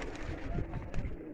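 Rare Veshi pigeons coo softly in short, throaty rolling phrases, close by and faint, with light rustling behind them.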